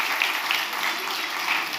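An audience at a Christmas Eve church service applauds, a dense, steady patter of many hands clapping at once that carries evenly through the short moment.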